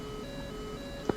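A radar warning receiver in a flight combat video game emits a thin steady electronic tone from an SA-11 missile lock, continuous and faint, with a brief thump near the end.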